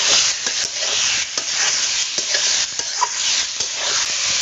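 Chicken dropped into a pan of fried onions, frying over a fire with a dense, loud, continuous sizzle and occasional stirring scrapes and taps, close up and uninterrupted by talk.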